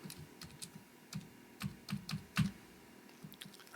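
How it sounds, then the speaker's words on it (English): Keys tapping on a computer keyboard sound faint and close, in an irregular run of light clicks with brief pauses between them. "I'm going to type out Anders."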